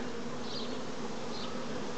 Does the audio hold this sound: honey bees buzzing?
yes